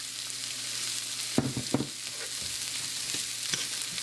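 Leftover shredded carrot and celery fry gently in a tablespoon of olive oil, giving a soft, steady sizzle with a few brief stirring clatters partway through.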